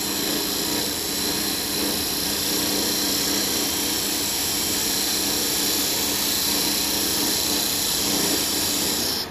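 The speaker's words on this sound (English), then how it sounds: "Making shavings. I love making shavings." A wood lathe spins steadily while a tippy top is turned, producing a loud, continuous whirring drone with a rough, hissing tool-on-wood texture as shavings come off, unbroken by speech.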